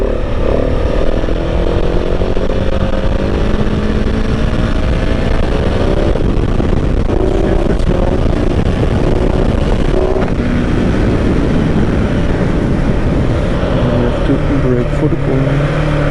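A motorcycle engine revs hard in second gear at around 40 km/h for a wheelie, a loud sustained roar with rising pitch under wind noise, while a rider talks over it.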